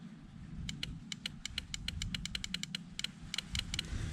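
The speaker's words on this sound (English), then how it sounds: "just to make sure that the relay is actually clicking over" An electrical relay clicking over during electrical fault checking, giving a quick, fairly regular run of sharp, faint clicks over a low background hum.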